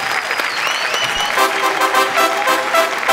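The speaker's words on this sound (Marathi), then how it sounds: "जोरदार टाळ्या गुरदीप कौर याच्यासाठी." An audience at a comedy show set in a boxing ring applauds loudly and steadily for a contestant, a dense burst of clapping with a little cheering.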